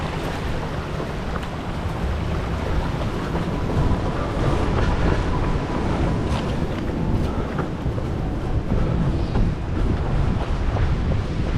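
Strong wind buffets the microphone during a hilly trail race near Mirmande, a loud continuous low roar and rumble that lasts the whole stretch without letting up, with no voices.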